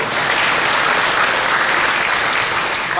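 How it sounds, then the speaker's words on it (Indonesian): An audience claps together in a dense, even burst of applause that holds steady for a few seconds at a talk on Dhamma, with no voices over it. "Tepuk tangan dulu."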